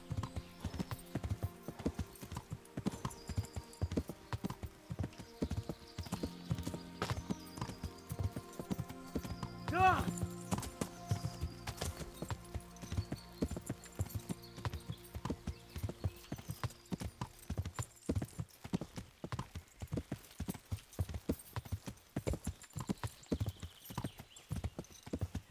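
Horse hooves clip-clop steadily in Kingdom Come: Deliverance as a tiring horse is ridden near a town and monastery, a rhythmic run of sharp hoof strikes close up with a brief whinny partway through.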